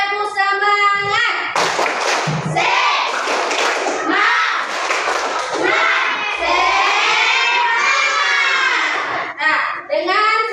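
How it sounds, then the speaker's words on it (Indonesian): Schoolchildren in a primary school classroom do a rhythmic spirit clap, loud bursts of claps and thumps mixed with children's chanting and shouting voices, the pattern repeating close up. "Kita tepuk semangat dulu"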